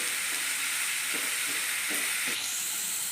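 Beef fry sautéing in a pan, a constant bright hiss of frying with a few soft muffled stirring bumps beneath it, steady and close, no talking.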